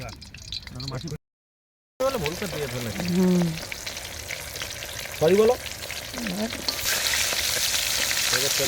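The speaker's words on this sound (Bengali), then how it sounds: "এখন আমাদের মাছ ভাজা হচ্ছে" Fish frying in oil, a busy sizzle and bubbling crackle close by, broken by a brief silent gap, with people talking over it at times.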